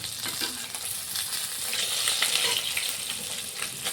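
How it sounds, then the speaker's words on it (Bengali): Pieces of Katla fish fry in hot oil with a dense, continuous crackling sizzle, close and even, with faint stirring scrapes and no voices. "মাছগুলো আমরা ঠিক এপিট ওপিট করে ঠিক লাল করে ভেজে নিয়েছি"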